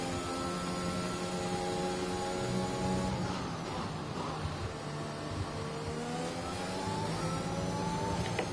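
An F1 car on a flying lap in the racing game F1 2021, its engine rising and falling through gear changes with high harmonic whine, steady and prominent throughout without voices.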